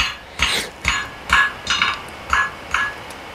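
A square flattening hammer strikes metal in an old smithy, seven sharp ringing blows in an even rhythm, each with a bright metallic tone, close and loud with no talking.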